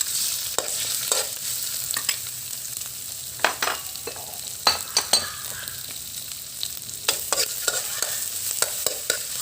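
Shrimp stir-fried in a pan for a seafood chami noodle dish, a continuous crackling sizzle broken by repeated sharp clacks and scrapes of a utensil against the pan, close and alone.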